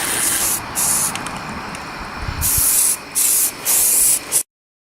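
Primer sprayed from a can onto a ported fiberglass subwoofer box in even overlapping strokes: a loud, close hiss in several bursts of differing length with brief gaps, ending abruptly.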